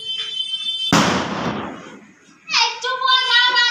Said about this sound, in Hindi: इतने बम फूट रहे हैं, इतने बम फूट रहे हैं।